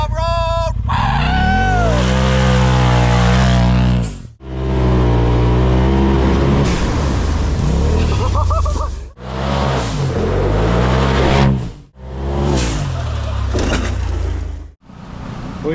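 A loud RZR Pro XP side-by-side drives off road on four flat tires, its engine revving in rising and falling bursts with brief pauses between pulls, close by.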